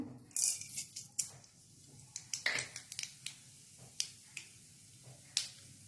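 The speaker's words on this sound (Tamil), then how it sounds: "கடாயில் நல்லெண்ணெய் ஊற்றிக்குங்க எண்ணெய் கஞ்சோடனே கடுகு சேர்த்துக்குங்க" Mustard seeds sputter in hot sesame oil in a kadai for a tempering: scattered sharp pops and crackles, some close and loud, over a low sizzling hiss, with no talk.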